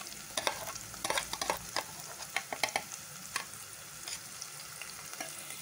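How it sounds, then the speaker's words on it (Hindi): Onion paste frying and being stirred in a pan while making fried rice, with a steady close sizzle broken by irregular sharp scraping clicks of the spoon against the pan. "अब हम इसमें प्याज का पेस्ट डालेंगे।"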